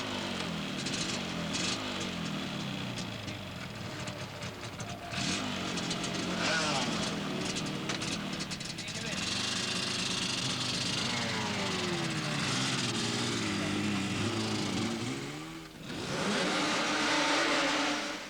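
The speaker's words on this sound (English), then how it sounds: "The kick-start of the production Yamaha of Rob Orme" Rob Orme's Yamaha production racing motorcycle at Silverstone in 1983, kick-started and then running and revving hard alongside other bikes, with a loud, sustained engine roar under continuous commentary.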